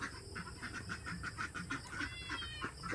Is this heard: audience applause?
no